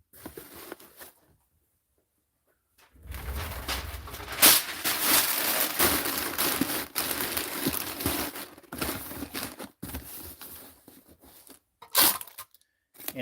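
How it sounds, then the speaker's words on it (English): Packing paper is crumpled and stuffed into a shipping box, making close, rustling crinkles and crunches in uneven bursts with short pauses in between. "And we're going to throw it in this box with some packing paper."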